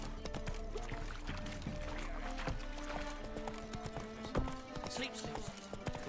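Horse galloping in the video game The Witcher 3: rapid, continuous hoofbeats at close range, mixed with other game sounds and occasional voices.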